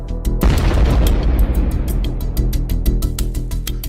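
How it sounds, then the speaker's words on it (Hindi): A small grenade explodes on a tank: a sharp blast bursts out early, followed by a roaring rush and a rapid series of popping cracks, loud and close. "छोटा ग्रेनेड छोटा धमाका करता है"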